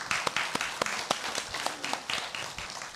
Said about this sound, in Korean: 우리 하나님께 영광의 박수 드리기